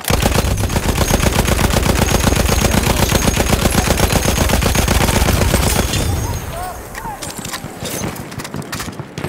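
A Lewis gun fires in a long, rapid, loud sustained burst in a video game battle on the Volga river, then gives way to scattered shots and background combat noise with voices in the mix.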